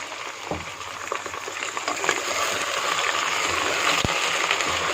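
Onions frying in oil in a handi pot, cooked until browned for arvi chicken curry: a steady close sizzle and crackle with soft patter and a few stirring knocks, no talk.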